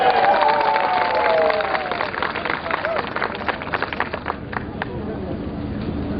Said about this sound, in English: While we are happy clapping our hands,